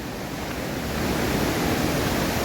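Steady rushing water fills the whole clip, a dense, continuous roar like a fast, rain-swollen forest stream in Sindhudurg running close by, with no voices.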